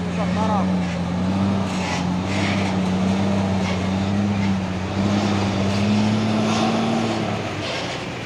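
A 6x4 truck carrying a wall-of-death carnival rig drives past on a road in Indonesia, its engine drone loud and steady with a low rumble throughout, among other traffic.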